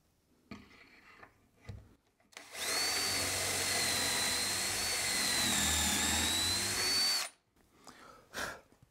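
A new router clamped in a compact mobile router table with a Kreg plate runs loud and steady for about five seconds, a whining howl starting abruptly and cutting off cleanly, with quiet handling noises and clicks before and after, dust extraction off.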